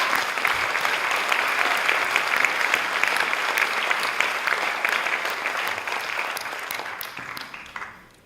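An awards ceremony audience applauds steadily in a large hall, dense sustained clapping that holds for about seven seconds and then fades quickly at the end.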